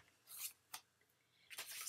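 A tape runner pulled across card paper gives short, crisp scraping strokes in quick bursts with quiet gaps between them. The sound is close and fairly faint, with no talk.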